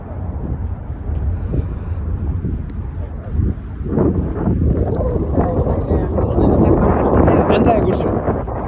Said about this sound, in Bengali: বাতাস ঠান্ডা কি